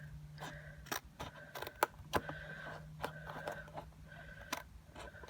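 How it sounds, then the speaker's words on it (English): Scissors trim a strip of paper off a folded handmade card, several sharp close snips spaced unevenly over a few seconds with no talking. "I'm just going to take my scissors and trim that off"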